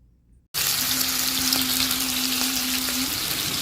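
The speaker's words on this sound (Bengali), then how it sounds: "ইলিশ মাছ ভাজা হচ্ছে" Loud, steady sizzling of hilsa fish frying in hot oil, starting abruptly after a brief quiet moment and continuing without a break.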